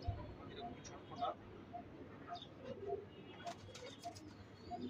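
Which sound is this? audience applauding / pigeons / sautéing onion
pigeons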